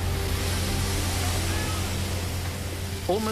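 Two-metre ocean waves during the D-Day landings at Normandy: a steady, loud wash of surf and rushing water fills the whole stretch, with a low engine-like drone beneath and a brief tonal sweep near the end.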